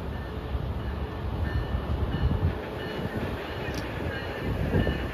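An Amtrak or MBTA train rolls into the Route 128 station with a loud, steady rumble and roar. The wheels keep up a continuous rolling noise that swells slightly toward the end, with no talking.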